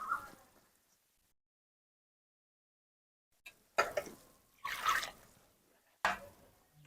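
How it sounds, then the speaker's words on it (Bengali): Soaked puffed rice being pressed and squeezed by hand in water: after a long silence come three wet, splashy squelching bursts, close and fairly loud, with short pauses between them. "মুড়িগুলো বেশ কিছুক্ষণের জলেতে ভালো করে চেপে চেপে ভালো করে ধুয়ে নিচ্ছি।"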